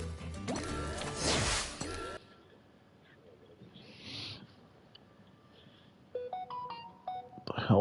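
Phone notification chime, a short series of bright tonal beeps near the end, preceded by a loud crashing burst and a quiet stretch with a brief faint tone.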